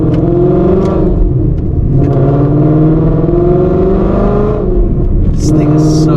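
A 2024 Ford Mustang GT engine revving loudly from inside the cabin, a close, powerful roar rising and falling through gear changes, with brief voices and a squeal-like burst near the end.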